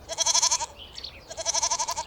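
Two separate goat bleats, each a quivering, rapidly pulsed call with a short gap between them, close and moderately loud with no voices.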